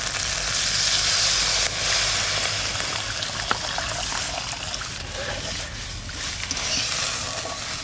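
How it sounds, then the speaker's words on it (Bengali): Water poured into hot, sizzling spice masala for a raw banana kofta curry sets off a loud, steady frying hiss and bubbling close by, easing slightly as the pan settles. "এবার জল দিয়ে দেবো।"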